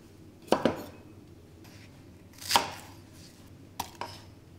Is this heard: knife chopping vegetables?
yes